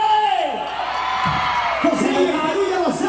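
Women in a crowd at a live show shout loudly and hold the sound, high whooping cries rising and falling in several overlapping waves, with a few voices standing out above the rest.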